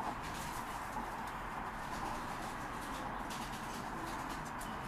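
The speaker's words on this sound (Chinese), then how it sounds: "这个就是小鸽子刚开家的，已经开始听得懂讯号了" Soft pigeon cooing continues throughout, low and steady over a constant background hum, with no voices.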